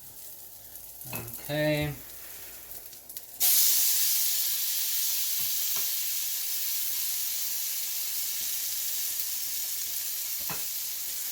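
Garlic bread sizzles in a pan, a loud, steady frying hiss that starts abruptly a few seconds in and continues evenly, preceded by a brief spoken word and a clink.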